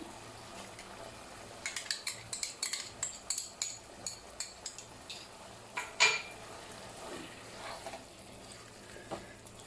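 A spoon clinks and scrapes rhythmically against a pot as yogurt is stirred into mutton and potato keema, a quick run of metallic knocks that slows and ends with a louder bang, over a low background hum.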